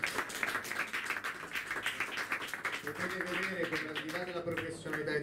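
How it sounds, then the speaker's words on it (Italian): Applause and clapping from a crowd, fairly dense and steady, with voices talking over it throughout. "Un applauso, ragazzi. Un applauso."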